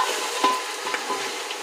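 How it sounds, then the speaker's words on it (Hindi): Meat fries with garlic-ginger paste for Bombay biryani, a steady close sizzle broken by scraping stirs of a spoon in the pan, no talking. "मतलब भून लेते हैं।"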